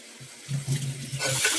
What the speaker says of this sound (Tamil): 1 டம்ளர் அரிசி, 1/2 டம்ளர் பருப்பு, இதை நல்லா கழுவி எடுத்துக்கலாம்